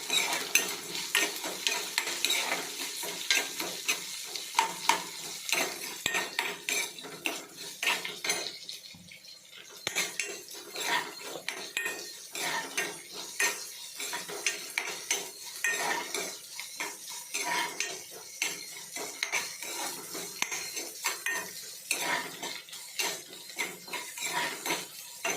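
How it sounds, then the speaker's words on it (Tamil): Onions frying in a pan for radish chutney, with a steady sizzle under repeated close scraping and clinking of a metal spoon as they are stirred, continuous throughout with a brief lull midway. "ஆனியன் போடுங்க."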